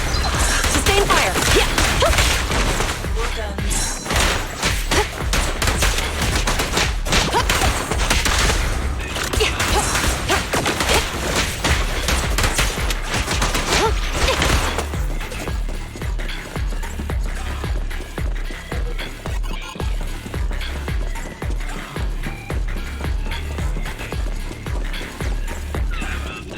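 Rapid, dense gunfire and crashing impacts in the video game Zenless Zone Zero, loud and continuous bursts of shots throughout with a busy mix of effects.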